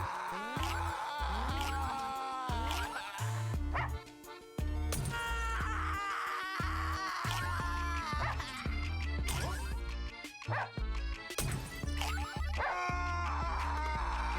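Dogs in a Russian subway video game bark and yip repeatedly under a loud, dense soundtrack of music and game effects that runs almost without pause.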